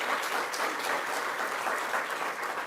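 Audience applause for the county executive at a New York state housing event in Buffalo, steady even clapping from a crowd at moderate distance, alone with no talk over it.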